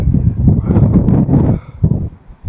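Strong wind buffets the microphone at the Wagangan rock formation, heavy low rumbling gusts that surge and ease in waves, loud and close throughout.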